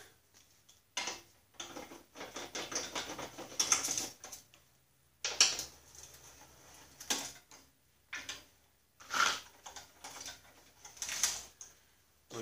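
Bolts being tightened on a chain case while a front end assembly with a hex shaft goes back together, giving bursts of ratcheting clicks and mechanical ticks separated by short pauses, close up with no talking.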